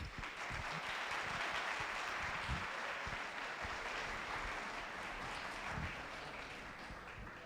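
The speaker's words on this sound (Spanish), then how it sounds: "Bien merecido el aplauso" A lecture audience claps in a sustained round of applause after a talk on constitutional labor justice, a dense even patter of many hands lasting several seconds and fading slightly at the end, with no speech over it.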